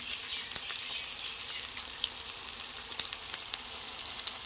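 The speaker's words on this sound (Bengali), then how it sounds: "এবার এটা কিছুক্ষণ ভালো করে আর একটু কষিয়ে নেব।" Tomato masala sizzles steadily while being sautéed for prawn malai curry, a quiet, continuous crackling hiss with small pops scattered throughout.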